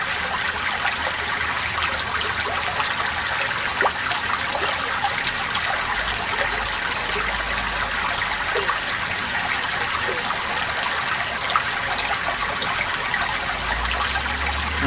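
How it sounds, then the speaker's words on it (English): Stream water trickles and splashes steadily at the start of the east branch of the Nanticoke where it meets Junction Pool, a continuous close rushing hiss with no voices. "I'm here at the beginning of the east branch of the Nanticoke, where it meets Junction Pool."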